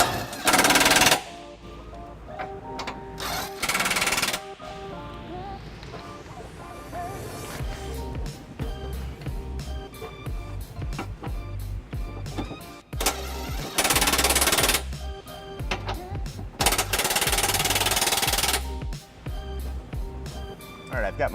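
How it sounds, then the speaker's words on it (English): An impact wrench snugs up bolts in repeated loud, rattling bursts, several short hammering runs separated by quieter gaps with mechanical clanks in between. "we're going to snug them up with the impact prior to giving them a final torquing"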